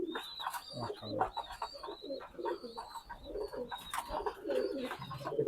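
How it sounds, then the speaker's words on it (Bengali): Pakistani highflyer pigeons coo repeatedly in soft, throaty phrases close by, with chirps and faint background voices mixed in. "এটা নর কবুতর।"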